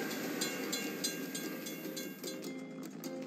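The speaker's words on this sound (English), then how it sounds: "We have to wait for the train to pass." Train rolling past a closed crossing gate in a truck-building simulator game, a steady rumbling rush with rhythmic clacks, fairly loud and continuous with no talking.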